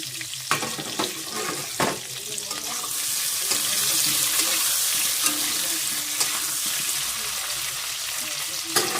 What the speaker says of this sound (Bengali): আর এখানে আমি আলুটা ভাজছি।